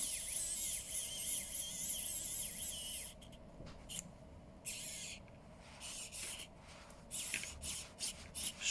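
A Wowstick 1F+ lithium-ion electric screwdriver whirs in a high, thin buzz while backing out tight bolts, continuous at first and then broken into short, stop-start bursts; quiet overall, with no speech.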